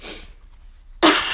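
Someone who is sick lets out a single sneeze, with a short breathy intake first, a brief near-silent pause, then a loud, forceful burst close to the microphone.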